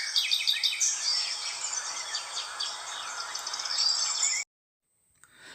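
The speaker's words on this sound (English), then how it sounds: "we can hear the chirping of birds" Birds chirp and twitter in a busy, overlapping chorus of high calls near a forest stream, the sound cutting off abruptly before a faint tail.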